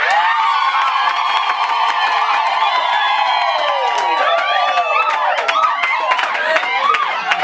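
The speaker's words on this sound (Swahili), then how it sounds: "Vigelegele na makofi." Women ululate in high, warbling trills over steady crowd cheering and scattered clapping at a house warming for a family home in Khelela village, Bungoma; the celebration stays loud and continuous throughout.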